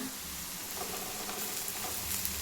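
Onion and ground coriander frying in a pan, a steady close sizzle with soft stirring scrapes running throughout, no voices.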